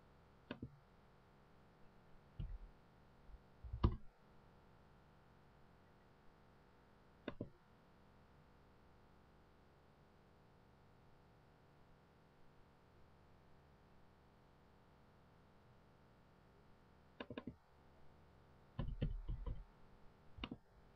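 Sparse computer mouse clicks land as single or paired sharp ticks spread over a quiet background, with a short cluster of clicks near the end, close and faint, and no speech.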